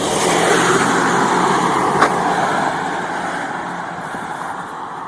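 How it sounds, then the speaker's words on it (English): A car passes on a road: a steady broadband rush of tyre and engine noise that stays fairly loud, then eases slightly toward the end, with no talking. "oh, I got to get out of the way of a car here."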